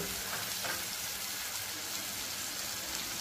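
A fish roe mixture with a splash of water frying over low to medium heat in a pan, giving a dense continuous sizzle with faint stirring, steady and close with no voices.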